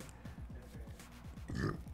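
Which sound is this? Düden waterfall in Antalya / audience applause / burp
burp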